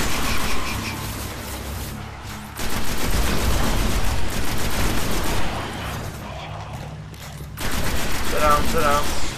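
Gunfire from a weapon in the video game Destiny, with dense, loud bursts of shots running through most of the stretch and a short lull midway.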